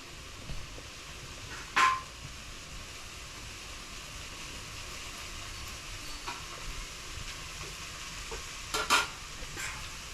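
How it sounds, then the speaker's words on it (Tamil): Coconut being stirred into frying drumstick leaves for a stir-fry: a soft continuous sizzle with two or three louder scraping stirs of the spoon in the pan, close up. "தேங்காய் சேர்த்து கலந்து விட்டுடலாம்"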